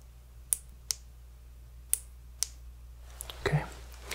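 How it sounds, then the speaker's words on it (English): Penlight switch clicked close by in a quiet room, giving four sharp separate clicks spaced unevenly, then a small clatter of softer handling taps near the end. "I'm gonna click this light to switch."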